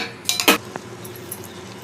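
Spoon clattering against a pot while vegetable biryani is stirred, a few sharp metallic clinks and scrapes close up, then quieter faint scraping.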